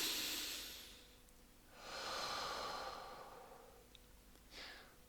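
Someone takes a slow, deep breath to calm anger, a soft inhale followed by a longer audible exhale and a short final puff, close and quiet with no talking.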